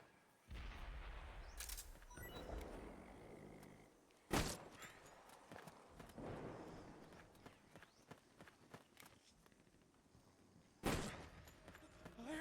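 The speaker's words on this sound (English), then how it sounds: "I heard gunfire!" Distant gunshots crack out in separate bursts in Metal Gear Solid 4, with scuffling footsteps and movement in between, all fairly faint.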